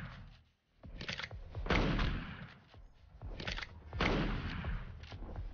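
Gunfire crackles during a firefight in the mobile game LifeAfter, with several muffled bursts of shots spaced a second or so apart at low volume.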